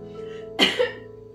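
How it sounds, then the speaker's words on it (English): A single sharp cough bursts out, followed by a smaller second catch, close and fairly loud against a quiet background hum. "Makes you cough a bit."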